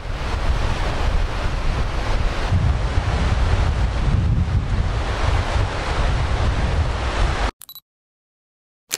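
Strong wind roars at a suspension bridge, a loud, steady buffeting rush against the microphone for about seven seconds before cutting abruptly to near silence.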